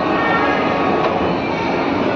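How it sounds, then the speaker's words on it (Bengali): Kolkata's underwater metro train runs through its tunnel with a loud, continuous roar and rumble, a steady broadband wash that stays even throughout. "এটা আমাদের প্রথম নতুন মেট্রো সফর, যেটা আন্ডার ওয়াটার মেট্রো"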